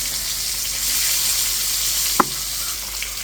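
Koi fish frying in a pan for a water lily recipe gives a steady, even sizzle that holds throughout, with one short utensil knock near the end and no talking.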